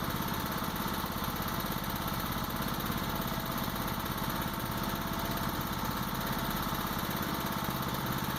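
A farm tractor's engine runs steadily and close by with a bucket loaded with concrete cap blocks, a continuous droning chug that holds even throughout with no talk.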